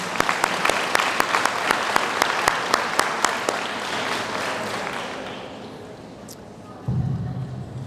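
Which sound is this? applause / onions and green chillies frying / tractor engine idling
applause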